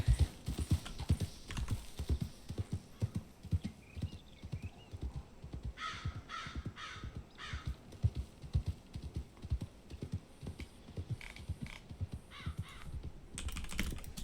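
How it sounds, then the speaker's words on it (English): Steady clip-clop hoofsteps of a cow being ridden in a video game, a rhythmic run of soft thuds with brief bursts of clicking in between, fairly faint and with no talk. "Just riding a cow now."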